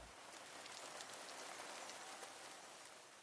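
Steady rain falls outdoors in the Serra da Aboboreira hills of Portugal, a dense, even hiss of drops on the surface that holds at the same moderate level throughout with no voices.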